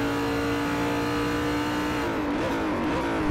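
Race car engines roar in Forza Motorsport 4 during a GT2 multi-class event with Ferrari and BMW cars, a loud sustained high-pitched engine drone that wavers and shifts pitch near the end as the cars accelerate and gear changes come through.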